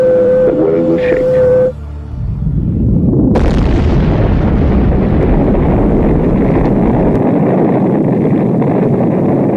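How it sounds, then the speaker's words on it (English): A huge blast from the atomic bomb over Hiroshima, with a sudden loud roar that breaks in after a short hum and then rumbles on for several seconds as a broad, sustained, slowly fading wall of noise. "the United States detonated its first nuclear weapons in Japan"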